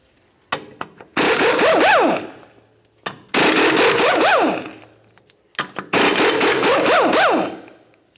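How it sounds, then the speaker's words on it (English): Four 18mm bolts are being driven off a rear brake backing plate bracket on a 1999-2006 Chevrolet Silverado 1500 with a power ratchet. The tool whines close up in three sustained bursts, its pitch rising and falling, with brief clicks between runs. "We'll continue on with removing our 4 18mm headed bolts that hold the bracket in place."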